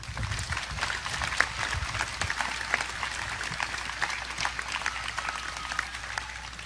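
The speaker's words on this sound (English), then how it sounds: "Please give them a round of applause." A large crowd at a university commencement gives a round of applause, a steady, dense roar of clapping that holds throughout at moderate distance, with faint voices mixed in.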